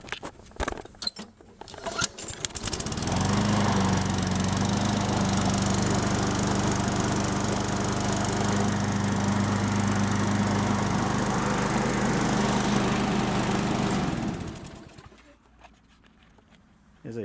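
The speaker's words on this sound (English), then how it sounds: "so give you a cold start on this one." A Craftsman front-wheel-drive mower with a Briggs Quantum engine cold-starts after a few seconds of handling noise, then runs at a steady loud drone for about eleven seconds before shutting off and winding down.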